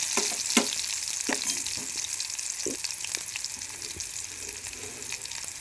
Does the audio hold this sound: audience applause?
no